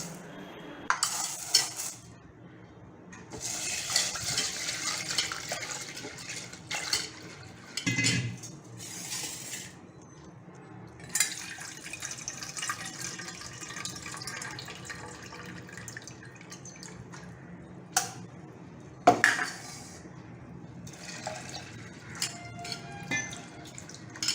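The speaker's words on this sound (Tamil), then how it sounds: "இதை வந்து நம்ம நல்லா ஒரு 2 டைம் ஆகுது நல்லா தண்ணி போட்டு நல்லா கழுவிக்கணும்" Sago pearls are swished and rinsed in water inside a metal vessel, with faint sloshing, dripping and occasional sharp clinks of the pot and utensils against a quiet kitchen background.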